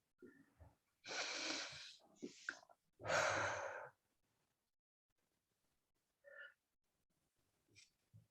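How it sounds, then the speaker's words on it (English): A group takes deep breaths during a guided relaxation session, with two long loud exhales close by, then quieter, shorter breaths with pauses between. "Nice deep breaths in."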